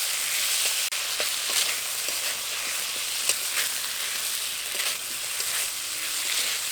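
Spices and vegetables are stirred and fried in a pan for a village-style bata fish recipe with thankuni leaves, giving a steady close sizzle with scattered scraping stirs throughout and no talking.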